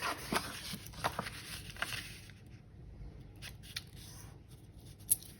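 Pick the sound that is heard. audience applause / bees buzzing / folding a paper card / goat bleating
folding a paper card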